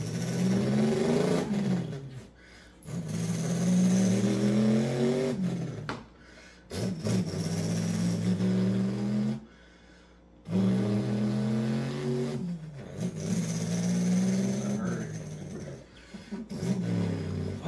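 A man imitates with his mouth the engine of a big inline-six UPS delivery truck, producing loud, growling rev-like bursts separated by short silent breaths, close and alone without other talk.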